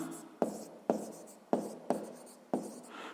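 Five crisp, evenly spaced strokes of someone writing out a sixth-grade math exercise, each a sharp scratch fading quickly, close and alone in a quiet room.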